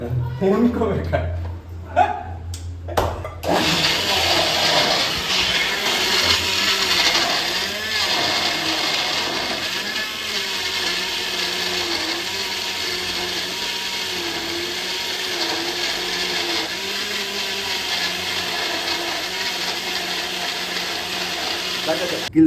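A mixer grinder runs continuously, grinding chicken sambar masala with a loud, steady whirring drone after a few short starts and rattles, and a voice talks over it.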